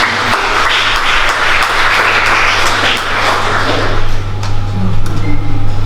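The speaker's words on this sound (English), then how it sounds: "round of applause for our candidates tonight" Loud applause from the audience at a sustainable fashion show pre-final, filling the room under a steady low hum, with cheering voices rising slightly toward the end.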